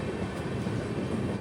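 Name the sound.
Himsagar Express train arriving at Tenali Junction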